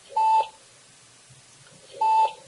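A software alarm meter for a data channel gives two short, clear electronic beeps about two seconds apart, sounding alone against a quiet background.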